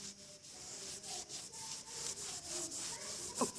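A cloth soaked with Clorox gel and water scrubs a painted wall around a light switch. Soft, rhythmic back-and-forth rubbing strokes repeat steadily and faintly for several seconds.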